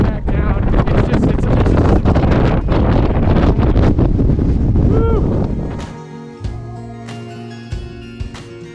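Strong wind roaring and buffeting a microphone on a mountain peak near Conway, New Hampshire, loud and continuous before dropping away, with a voice speaking as it eases.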